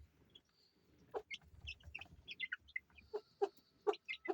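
Chickens cluck in short bursts and chicks cheep in high, thin peeps, close by, with a scattered, uneven rhythm and no talking.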